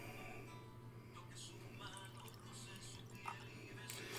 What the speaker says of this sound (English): Let's pour the Viva Mexico Madera